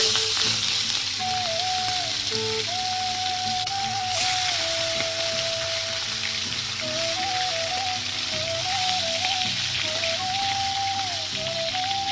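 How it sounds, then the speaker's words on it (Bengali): Fish pieces frying in oil in a home kitchen, a constant, even sizzle with fine crackling and spatter that runs throughout under a soft melodic music line. "তো আমি মাছগুলো ভাজতে থাকি আর তোমরা দেখতে থাকো"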